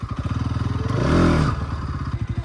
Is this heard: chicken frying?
no